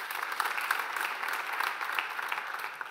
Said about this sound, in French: Elisabeth Joly-Chimel, que vous pouvez aussi applaudir.